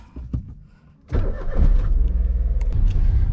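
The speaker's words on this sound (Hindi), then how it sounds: "अपनी गाड़ी उठानी है और गाड़ी लेकर चलना सीधा फरीदाबाद" A car engine cranks and catches after a brief quiet moment, then settles into a loud, steady idle with a rhythmic pulse, recorded close by with no talking.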